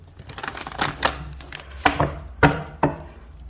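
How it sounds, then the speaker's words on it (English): Paper cards riffle and snap together in several quick bursts, with sharp taps between them, close up and without any talk. "Just going to give it one more shuffle and then we'll begin."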